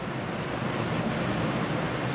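A constant, dense roar of heavy rain and wind, buffeting the microphone without a break, with no voices.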